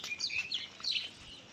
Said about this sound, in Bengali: এখন আবারও কিচির মিচির করে ডাকতেছে। ওটা দোয়েল পাখি ছিল গাছের উপরে।